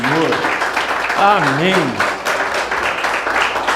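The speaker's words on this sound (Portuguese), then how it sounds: "Pode aplaudir, glorificar o Senhor" Church congregation applauding in a steady broadband wash, with a voice speaking and chanting over the clapping throughout.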